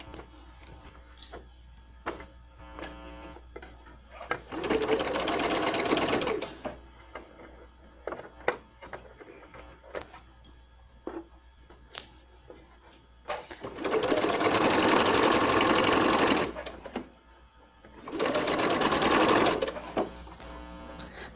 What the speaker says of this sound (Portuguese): Aí venho costurando. Até o finalzinho aqui.